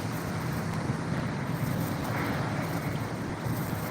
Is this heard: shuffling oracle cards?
no